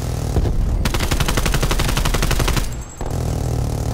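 Rapid sustained submachine gun fire in the shooter game Black Ops Cold War, a fast loud burst of evenly spaced shots lasting nearly two seconds, over dense in-game background noise.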